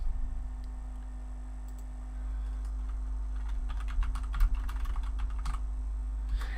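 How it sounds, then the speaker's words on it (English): Typing on a computer keyboard, a steady run of quick, fairly close clicks that grows busier in the second half, over a low constant room hum with no talking. "Here, I'll type it in."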